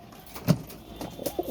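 A pet pigeon coos close by in a few soft throaty bursts, with a short pause between the first note and a quicker cluster after it.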